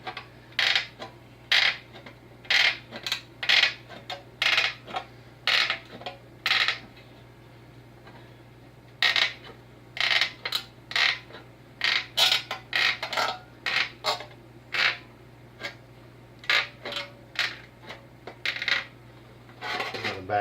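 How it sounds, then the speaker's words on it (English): Metal can cut along its edge, a series of short sharp snipping and scraping bursts in irregular clusters with brief pauses, close and fairly quiet over a low steady hum. "I'm going to cut right along that edge right there."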